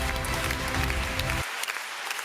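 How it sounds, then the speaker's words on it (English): Applause from the audience at a virtual Rotary District 3860 public image seminar, steady clapping for a little over a second over a music bed that then drops away, leaving the clapping fainter. "Let's give her a big round of applause."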